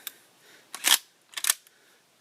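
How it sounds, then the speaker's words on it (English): Metallic clicks and a sliding clack from working the bolt release and action of a Winchester SXP Defender 12-gauge pump shotgun, two sharp close mechanical snaps a half second apart, alone with no talk. "that little nub there releases the bolt"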